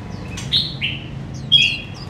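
A songbird of the Sông Côn strain, bought in Da Nang, sings two bright chirping phrases about a second apart, close to the microphone, over a low steady hum of room noise.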